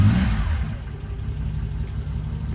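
An old Ford Dagenham car engine that has just fired up on choke with no pedal touched, giving a short loud rev that settles quickly into a steady, rumbling idle close by.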